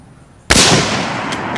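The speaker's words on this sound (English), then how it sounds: "Kevin, you're getting way too comfortable with gunfire, you know that?" One loud, sharp rifle shot fires a Silver Bear steel-case round outdoors, cracking suddenly out of quiet and then ringing off in a long decaying echo.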